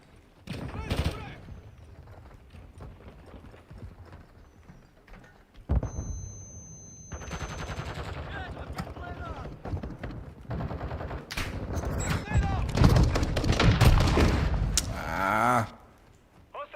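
Gunfire in Call of Duty Modern Warfare II from an LA-B 330 'Shadow Lance' rifle: scattered bursts give way to dense, sustained automatic fire with explosions, under intermittent in-game voice callouts.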